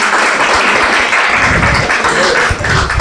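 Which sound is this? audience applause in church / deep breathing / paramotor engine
audience applause in church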